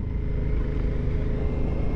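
Aprilia Dorsoduro 900 motorcycle engine, a 900cc bike, rumbling steadily while being ridden, a continuous low drone at moderate level with no talk.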